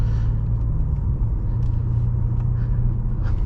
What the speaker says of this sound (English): the turbo spool on this car is loud